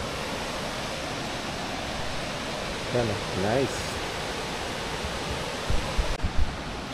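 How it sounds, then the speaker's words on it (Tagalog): Talahib Falls drops heavily, giving a constant roaring wash of water that fills the whole scene, while someone speaks briefly over it and there are a few louder close handling bumps near the end. "malakas yung bagsak ng tubig ngayon."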